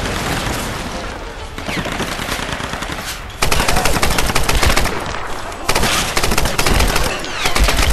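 Sustained machine gun suppressing fire in the video game Tomb Raider 2013: loud, rapid automatic bursts rattle almost continuously, with brief lulls between heavier volleys and no voices.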